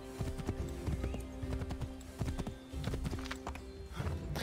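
Horse hooves clip-clop in a steady gallop with occasional whinnies, loud and close in Assassin's Creed III Remastered, a continuous game soundscape.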